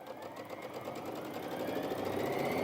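Brother Innov-is VQ2 sewing machine stitching through fabric, a steady close mechanical whir of rapid needle strokes that builds slightly in loudness, with no talking.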